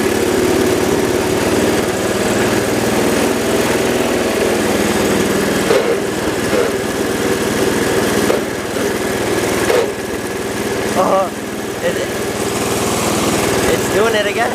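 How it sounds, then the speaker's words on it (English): The engine of a Cub Cadet 1200 garden tractor runs close by with a steady, rough drone that sags and dips a few times as the engine bogs down under load, with people talking over it. "I don't know if that's the engine bogging down or if it's the clutch slipping."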